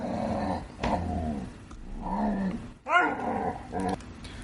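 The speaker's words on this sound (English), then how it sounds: "as I'm trying to stop these dogs from fighting each other at the moment" Dogs fighting indoors, with close, loud bursts of growling and snarling in uneven clusters, separated by brief pauses, ending in a sharp yelping scuffle.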